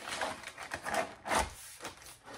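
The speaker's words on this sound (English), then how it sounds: "Crumple it up, put it on this side" Packing paper is crumpled by hand while a painting is packed for shipping: a soft, close, continuous crackling and rustling with a few louder scrunches.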